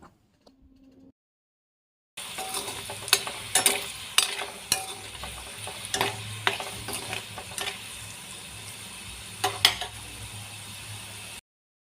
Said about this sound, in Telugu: ఎండుమిరపకాయలు వేసేసుకుందామండి ఎండుమిరపకాయలు కూడా కొంచెం వేగనిద్దాము